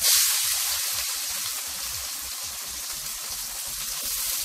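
Chopped onion, tomato and green chilli frying in hot oil, giving a steady, dense sizzle that holds evenly throughout with no talk.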